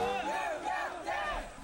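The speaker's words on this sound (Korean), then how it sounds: "공군사관학교 생도들의 함성 소리가 울려 퍼지는 유격 훈련장" Air Force Academy cadets at a ranger training ground shout in unison, a loud rising and falling group yell repeated in three surges, echoing across the outdoor field.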